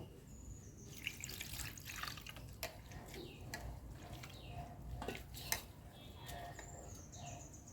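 Grated potatoes being rinsed in water in a village kitchen, with steady sloshing and trickling and a few brighter splashes and drips throughout, fairly quiet, with birds chirping faintly in the background.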